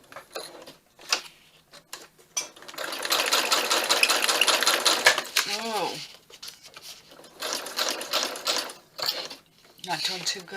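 A sewing machine stitches around a craft piece in bursts of rapid mechanical whirring, with short pauses and handling noises between runs, fairly close and loud.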